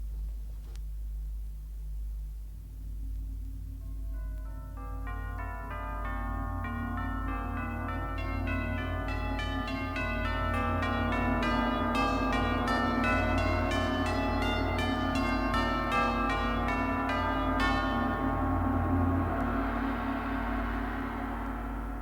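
An orchestral tam-tam, a large gong, is beaten gently with repeated soft strokes, its shimmering metallic tone building steadily in volume and intensity over a long, sustained swell.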